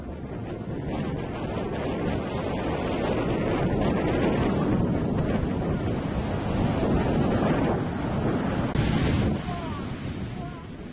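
Furious ocean waves breaking on a black sand beach along Iceland's south coast where a glacial outwash plain meets the sea, a steady loud roar of surf with heavy wind buffeting the microphone.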